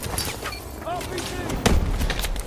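RPG rocket fire in the video game Call of Duty Advanced Warfare: a heavy launch thump among scattered battle gunfire and booms, with voices talking over the action.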